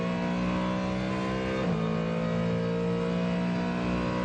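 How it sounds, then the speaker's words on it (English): A Ford Mustang GT3 race car accelerates down the Le Mans Mulsanne straight, its engine note climbing steadily in pitch as it gears through, loud and close with a brief shift midway. "re-accelerate for the second time down the Mulsanne straight"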